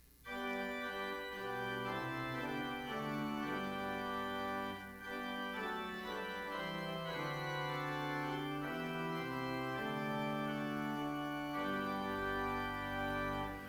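Pipe organ in the Ogden Tabernacle playing its principal chorus, 8-foot stops up through the mixture, a full, bright sustained chord progression that rings on continuously without pauses and is heard alone.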